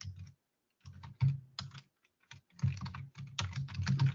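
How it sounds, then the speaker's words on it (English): Loud computer keyboard typing in bursts of rapid clacking keystrokes, close and alone, with short pauses between flurries. "Sorry for my loud keyboard."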